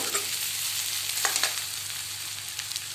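Onions frying in a pan, a steady close sizzle with occasional soft stirring scrapes, no voices over it.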